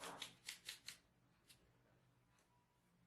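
Flour, cornstarch and milk powder are sifted through a sieve for a layered sponge cake, giving about four close, soft rasping shakes in quick succession, then near silence with a couple of faint taps.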